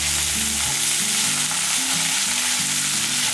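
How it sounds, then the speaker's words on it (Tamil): Drumstick leaves with asafoetida and mint leaves sauté in a pan, giving a steady, loud sizzle and crackle with light stirring throughout, no talking. "இதெல்லாம் நல்லா வதங்கிட்டு இருக்கட்டும்"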